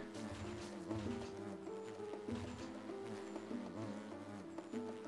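Bees in the video game King of Bugs, an ant colony battle, give a faint steady droning hum during play, layered with game music and other tonal effects, with no talking.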